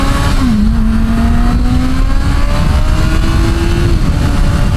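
A new motorcycle accelerates on a race track during a track day, its engine a loud, close, steady drone whose pitch climbs gradually without a break, with no talk.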